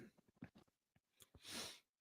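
A loud nasal sneeze bursts out after a few quick sharp breaths and sniffs, with the closing blast strong and airy.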